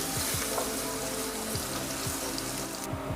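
Garlic fries in hot oil in a pan, giving a steady close sizzle with occasional soft stirring scrapes and no voices.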